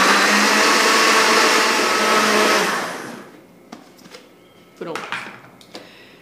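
A blender whirs loudly for about three seconds while mixing hummus ingredients without the chickpeas, then cuts off and is followed by a few sharp clatters and knocks.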